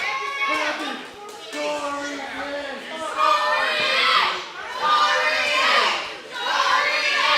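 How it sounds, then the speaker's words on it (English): A wrestling crowd at a ProSouth Wrestling event chants for a wrestler in rising and falling waves of massed voices, with a commentator talking over them. "Now the crowd chants for him."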